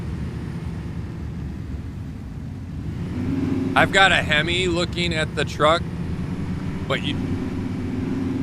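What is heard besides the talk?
truck engine revving in video game Way of the Hunter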